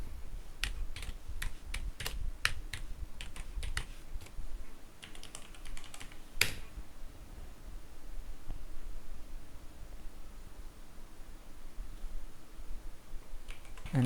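Fingers type a command on a computer keyboard in a Linux Mint 22 terminal. A rapid run of crisp key clicks fills the first half, ending in a firm keystroke, then a long, near-silent stretch with only faint room hiss.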